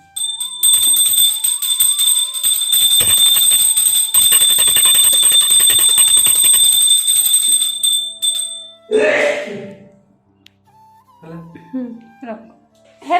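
A small metal puja bell rings continuously with a bright, sustained tone for several seconds, then stops; a voice speaks briefly afterward.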